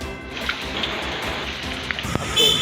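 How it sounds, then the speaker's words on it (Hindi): Heavy rain pouring down in Jaspur, Uttarakhand, as a steady broadband hiss of drops on surfaces with a few louder splashes, continuous and fairly close. "जसपुर में हो रही तेज बारिश"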